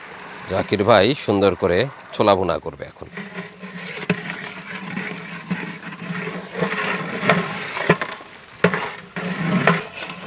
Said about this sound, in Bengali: মশলা কষানো হয়ে গেছে আমরা এখন ছোলা রান্না করে নিচ্ছি